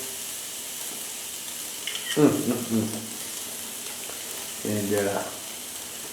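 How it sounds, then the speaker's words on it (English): Steak searing in a hot pan, a soft steady sizzle running under short bursts of close talk and a couple of brief stirring or handling noises. "then we're gonna sear this side just for a minute"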